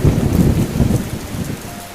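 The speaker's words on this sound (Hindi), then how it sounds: "शाम होते ही तेज हवाएं चलने लगती हैं और मूसलाधार बारिश शुरू हो जाती है।" Heavy cartoon rainstorm with strong wind, a dense loud roar of pouring rain with low rumbling throughout, steady and close, with no voices.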